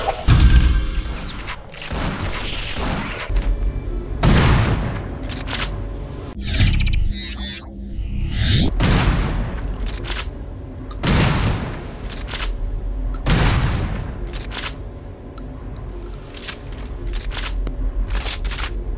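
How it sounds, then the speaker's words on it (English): Shotgun blasts from the video game Wolfenstein, several loud booming shots spaced a few seconds apart, each with a sharp attack and short decaying tail over a steady background game soundscape. "Considering it's Wolfenstein's first ever shotgun, it's a good effort."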